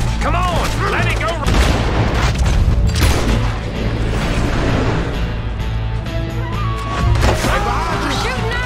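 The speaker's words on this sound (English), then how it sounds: "We're shooting our way out of here, boys." Gunfire from a shootout in the video game Red Dead Redemption 2: repeated loud booming shots and bursts in quick succession, mixed with voices talking through the action.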